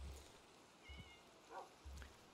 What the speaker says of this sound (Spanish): Oigo un gato.